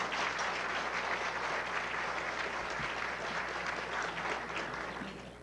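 A luncheon audience at a National Press Club event applauds steadily from start to finish, a dense, even wash of many hands clapping that stays fairly quiet and begins to fade near the end.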